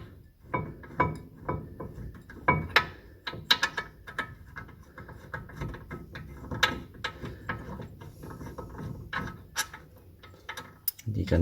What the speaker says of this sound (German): Und schraube nur die obere raus.